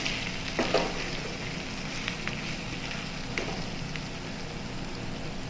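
Chicken with cashew nuts sizzles steadily in a pan while being stirred, a soft continuous frying hiss with a few light scraping clatters of the spoon, no talking.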